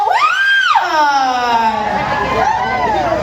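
A crowd at a pride queen pageant cheers and screams loudly, high excited voices rising and wavering continuously over a noisy hall.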